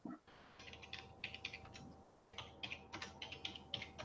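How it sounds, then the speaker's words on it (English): Typing on a computer keyboard comes in two quick bursts of rapid clicking keystrokes separated by a brief pause, faint and close with a quiet background hum. "Probably hear me typing."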